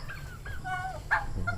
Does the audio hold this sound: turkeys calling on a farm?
yes